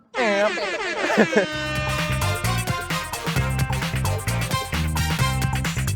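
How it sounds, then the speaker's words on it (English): Air horns blasting in a loud, sustained, layered chorus, opening with a descending swoop before settling into continuous blaring tones, used as an intro at an OP10 championship in Tokyo. "Just air horns."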